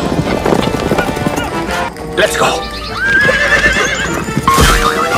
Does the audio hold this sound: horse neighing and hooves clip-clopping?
yes